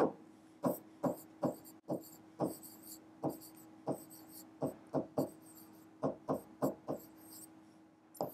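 Marker strokes on a classroom board during a maths lesson, a series of short squeaky scratches in an irregular rhythm, close and clear with no talk.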